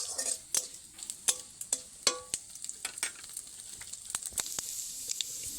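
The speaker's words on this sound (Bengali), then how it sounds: "গোটা গরম মশলা, গোটা জিরে আর তেজপাতা হালকা আমি ভেজে নিচ্ছি।" Whole garam masala, cumin seeds and bay leaves fry in a mix of oil and ghee, crackling and spitting with irregular sharp pops and faint clinks of a utensil against the pan.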